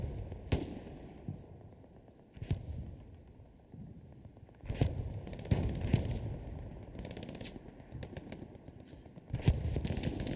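Gunfire in the World War II shooter Hell Let Loose crackles at a distance: scattered single shots and short bursts, faint and spaced apart, over a low rumbling background.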